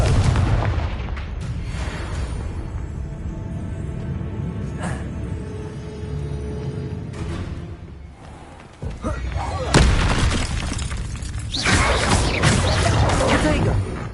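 A Confringo blasting spell explodes in Hogwarts Legacy amid an ongoing magical duel, heavy booming blasts and crashing impacts layered over a constant loud roar of combat, with a spoken voice mixed in.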